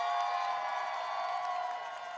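A large crowd cheers and roars at the outdoor grand opening of the Obama Presidential Center, a steady, dense wash of voices that stays loud throughout and eases slightly toward the end.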